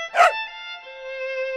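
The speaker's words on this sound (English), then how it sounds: "Whose dog art thou? Little Tommy Tinker's dog. Bow, wow, wow." A single sharp dog bark near the start of a nursery rhyme, followed by a steady sustained musical tone with no speech.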